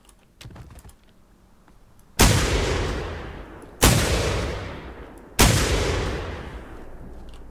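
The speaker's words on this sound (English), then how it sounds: "Let's get some lung shots in while we can." Three loud, booming rifle shots from the video game theHunter Primal, spaced about a second and a half apart, each ringing out with a long fading tail.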